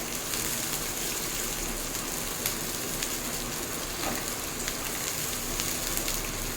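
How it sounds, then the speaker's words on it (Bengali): Chopped onion with a green chilli frying in a pan, a dense, even crackling sizzle heard close and continuous throughout, with small pops scattered through it. "পেঁয়াজটাকে ভালোভাবে ভেজে নেব।"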